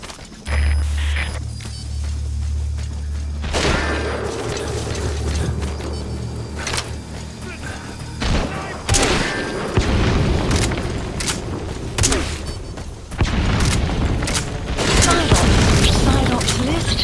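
Cover fire in the Metal Gear Solid V video game, with repeated heavy booms and explosions mixed with bursts of gunfire throughout, loud and continuous, and a voice speaks over the action.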